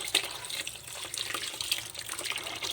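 Tap water runs steadily into a sink while banana blossom is washed, a continuous close splashing stream with small irregular spatters and no talk.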